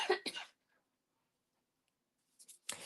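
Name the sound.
coughing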